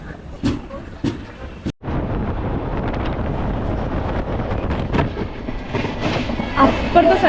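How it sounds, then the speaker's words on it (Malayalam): The Sampark Kranti Express runs on after its halt at Kozhikode railway station, giving a continuous rattling rumble heard up close, with gusts of wind buffeting the microphone and a few sharp knocks. "ഒരു 5 മിനിറ്റിന് ഹോൾട്ടിന് ശേഷം നമ്മുടെ സമ്പർക്ക് ക്രാന്തി കോഴിക്കോട് റെയിൽവേ സ്റ്റേഷനിൽ"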